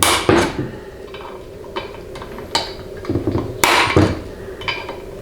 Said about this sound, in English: And then start your center punch.